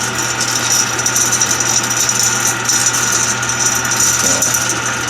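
The ash removal system of a restored 1959 Axeman Anderson 130 coal stoker runs with a loud, continuous mechanical rattle and motor hum, steady and close throughout.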